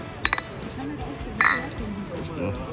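Beer glasses clink together in a toast among a group of friends at an airport before a flight to Los Angeles, two quick bright clinks then another, under lively talk and background chatter.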